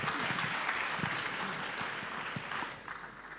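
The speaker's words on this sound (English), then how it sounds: "Let's give a round of applause." Audience applause at the Bitcoin Atlantis 2024 conference: a steady wash of many hands clapping at moderate distance, easing off and thinning out toward the end.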